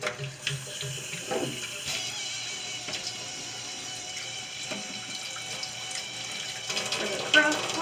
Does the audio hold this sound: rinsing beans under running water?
yes